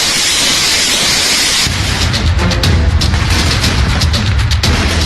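Rockets fired from a multiple rocket launcher during Russian attacks on Mariupol in wartime: a steady, loud roar gives way to a run of deep, rumbling booms and sharp cracks, one after another.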